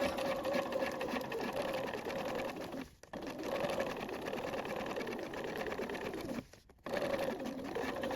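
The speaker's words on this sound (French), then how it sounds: "On coud la parmenture devant et puis la parmenture dos." A sewing machine stitches the facing of a top in a continuous close whirring run, pausing briefly twice before starting again.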